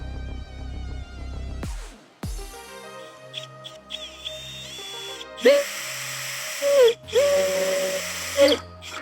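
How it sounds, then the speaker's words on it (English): A power drill whirs in several short bursts, revving up and stopping between holes drilled in a diesel heater mounting plate, with the pitch shifting as it bites into material. "we can go ahead and drill our holes."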